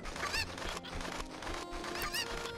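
Cucco chickens cluck and squawk in The Legend of Zelda: Ocarina of Time in Kakariko Village, two bursts of shrill cackling calls over busy game background sound.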